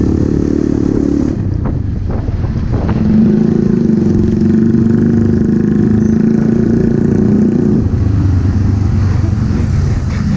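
Motorcycles rumble past on an afternoon street in Gandus, Palembang, with a steady loud engine drone, humming revs rising and falling and one bike passing close by.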